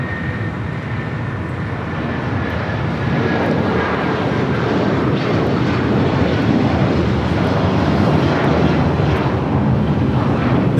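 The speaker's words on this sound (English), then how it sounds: "This takeoff is United Airlines 1939, taking off to Newark on the 757-200" A United Airlines Boeing 757-200 taking off from Los Angeles airport bound for Newark, a loud sustained jet engine roar that builds slightly and holds steady throughout.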